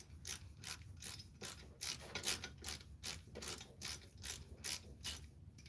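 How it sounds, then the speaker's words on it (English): Ratchet clicking steadily in quick repeated bursts while tightening bolts on a 2009 BMW X5 after an alternator change, close and fairly quiet, no talking. "So we're gonna start tightening up these bolts."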